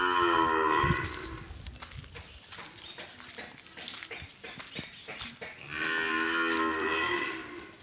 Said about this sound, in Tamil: ஹெச்அப் பிரீடு நல்ல ஹெவி மாடு